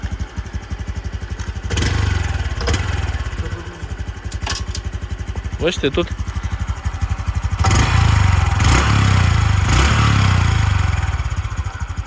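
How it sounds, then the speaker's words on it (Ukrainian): A 2020 Honda CT-125 fuel-injected scooter engine runs close by at a steady idle, rising in a couple of throttle blips midway. Someone speaks briefly over it. "ну тут просто двигунчик працює як часи"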